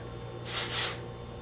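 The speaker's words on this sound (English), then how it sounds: "I love Oribe Thick Dry Finishing Spray, just for some, spray it up in there" Oribe Thick Dry Finishing Spray is released from an aerosol can into hair as a single close, soft hiss of about half a second over a quiet room background.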